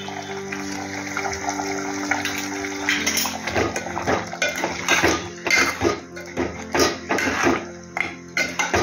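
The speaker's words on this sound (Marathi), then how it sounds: "थोडंसं आता गरम पाणी टाकायचं." Hot water pours into a metal pot of Malvani-style mutton curry with a steady rush, mixed with clinks and clatter of cookware, the splashing growing more uneven toward the end.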